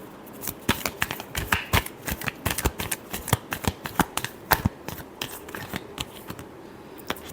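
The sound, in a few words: shuffling tarot cards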